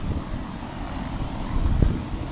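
Low, steady helicopter rumble overhead at Botany Bay, moderately loud and continuous, swelling slightly toward the end.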